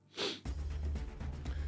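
A single short, sharp sneeze bursts out near the start, followed by a low steady room hum.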